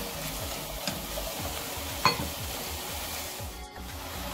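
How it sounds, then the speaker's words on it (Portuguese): Chickpeas are stirred into a pan for a vegetarian chickpea stroganoff, a soft scraping with a low sizzle beneath, steady and close, with one small clink partway through. "Agora eu vou estar colocando também, gente, aqui o meu grão de bico. E vou estar misturando também."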